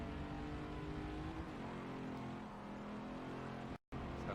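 A Ford Mustang Mach 1 on the Watkins Glen circuit drones loudly from inside the cabin as the driver eases off the throttle, the engine note dipping slightly before holding steady, with a brief dropout near the end.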